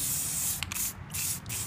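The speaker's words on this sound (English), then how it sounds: "you just shake it up and you just lightly spray it." Aerosol spray can lightly misting a protective coating onto fashion jewelry: close, steady hissing bursts with a few short breaks between sprays, no talking.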